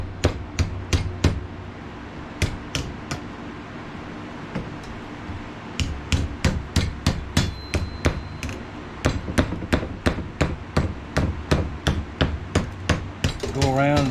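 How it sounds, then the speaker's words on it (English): A ball peen hammer strikes a straw fork in quick bursts of sharp metallic taps, sometimes in fast rhythmic runs and sometimes spaced apart, each blow ringing briefly. "we're going to take the ball peen"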